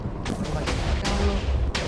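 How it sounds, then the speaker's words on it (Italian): Heavy booming explosions in the Minecraft video game, a series of loud rumbling blasts with sharp cracks spaced through the moment, thick low-end roar throughout. "Ho sentito forti esplosioni"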